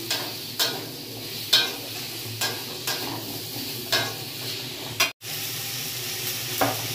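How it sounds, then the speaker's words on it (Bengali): Potato pieces fry with garlic in a pan, a steady sizzle running throughout while a utensil stirs them in repeated scraping strokes, with one brief break near the end. "এবার এর সাথে আলুটাকেও খুব ভালো করে ভেজে নেব"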